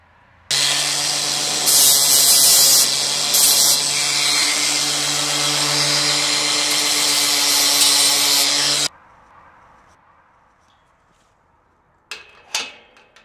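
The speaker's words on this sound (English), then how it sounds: "drill additional holes 10mm above and below the bolt hole, and tidy up with a grinder" A power drill bores extra holes in a metal gate near the bolt hole, then a grinder tidies the edges: a loud, steady, whining run of several seconds that stops abruptly, followed by quiet and a brief clatter.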